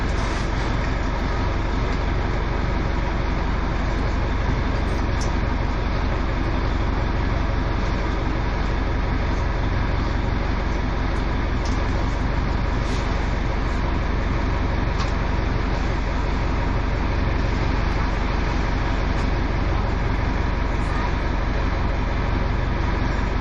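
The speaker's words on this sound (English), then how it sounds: "This traffic is all fabricated." Steady, dense street traffic at the Cambie St. Bridge and Granville St. in Vancouver, a continuous roar of passing cars, buses and trucks with no pauses and no clear individual events.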